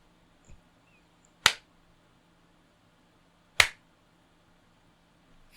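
Two sharp, isolated hand claps sound about two seconds apart against a quiet room. Each is crisp and close, and there is a softer tap before the first clap.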